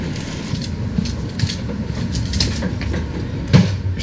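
An Amtrak sleeper train rolls along the rails with a steady low rumble and faint rhythmic clicks and creaks from the car, heard from inside as a continuous moderate drone.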